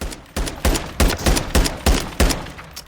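A mounted weapon in Call of Duty Modern Warfare III fires single loud, punchy shots at an even pace, about nine of them in under three seconds, with no talk.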